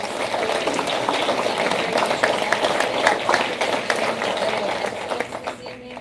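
A room of board meeting attendees applauds steadily throughout, a dense continuous patter of many hands clapping at moderate distance with no clear speech over it.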